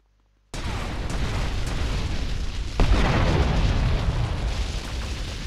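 A bomb goes off in GTA Vice City with a sudden loud boom, then a long heavy rumble that holds steady, with a second burst surging partway through. No voices are heard.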